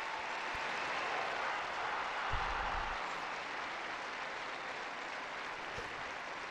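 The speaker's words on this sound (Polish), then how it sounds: "Na placu Świętego Piotra oklaski zgromadzonych pielgrzymów wiernych wyrażają wdzięczność Ojcu Świętemu" Pilgrims gathered in St. Peter's Square applaud, a broad, steady wash of many hands clapping at a distance, sustained and even throughout with a few low thumps.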